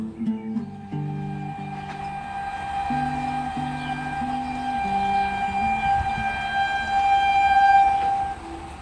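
A steady rumble of a moving train with a sustained tonal whine above it, growing slightly louder toward the end, with no talking.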